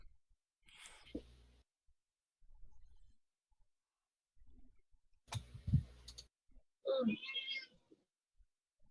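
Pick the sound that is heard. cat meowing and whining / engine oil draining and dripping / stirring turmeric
cat meowing and whining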